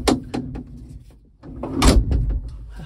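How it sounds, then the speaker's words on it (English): A 1983 VW T3 Vanagon camper door is handled with a few light clicks and rattles, then swung shut with a heavier close thud, and some rumbling follows. "Ari, you can now close the door"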